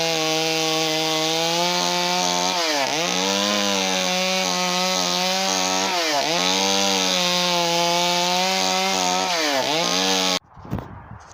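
A chainsaw makes shaving cuts while carving a 4-foot wooden bear, shaping the neck. The loud, close engine whines steadily, its pitch sagging under load in brief dips about every three seconds, then cuts off abruptly near the end.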